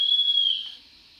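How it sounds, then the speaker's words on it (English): A single high, steady whistle from a Fleischmann DB BR 044 model steam locomotive with Henning sound decoder toots for under a second, then fades out in a brief lingering tail; clear and close, alone. "F5 is the departure whistle"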